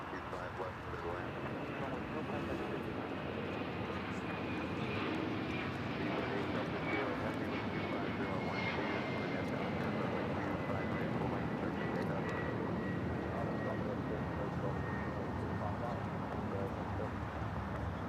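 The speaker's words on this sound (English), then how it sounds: "we got cargo jet, the converted 767, now rolling down at 25 right" A converted Boeing 767 cargo jet taking off from LAX runway 25 right, a steady distant engine roar with a slowly shifting whine, heard under talk and radio chatter.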